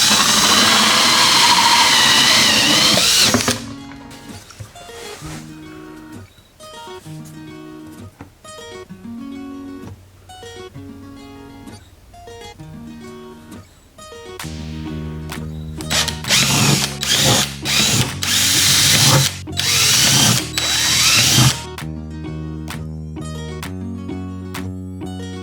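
A power drill cuts a hole in the lid of a Harbor Freight sand blaster in loud, close bursts of high-pitched whining that start and stop repeatedly, with short pauses between runs.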